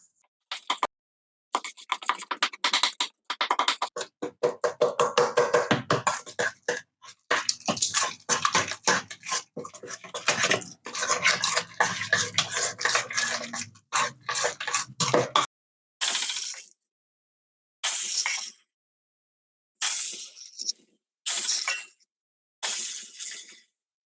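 Utensil scraping and clinking in a bowl as keto meal ingredients are mixed with garlic powder, irregular bursts of stirring followed by several short separate scrapes near the end.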